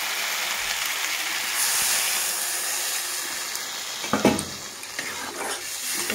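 Liquid for a thin rohu fish curry goes onto a spice paste frying in oil, bringing a steady loud sizzle and hiss with a few stirring clinks of a pan.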